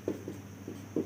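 Chalk or marker writes on a board during a classroom lecture, giving four faint, short scratchy strokes at an uneven pace in a quiet room.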